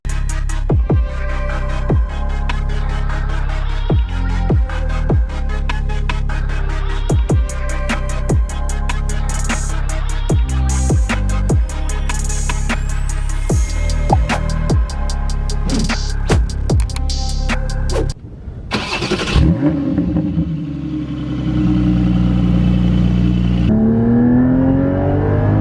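A Porsche Cayman GT4 718 engine on a drive, loud and close, repeatedly revving up through the gears with sharp shifts, then a brief drop and lull before it pulls hard again.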